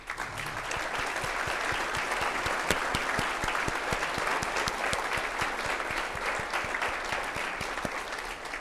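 A large audience applauds steadily and loudly throughout, dense clapping without pause, honoring elected officials standing during a State of the City Address.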